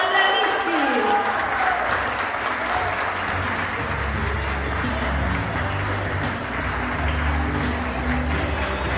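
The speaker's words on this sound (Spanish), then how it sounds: "Recibimos con un fuerte aplauso a Mónica Alejandra Vichy." Loud, sustained applause from a crowd welcoming an honoree at a ceremony, a continuous roar of clapping under background music with some voices mixed in.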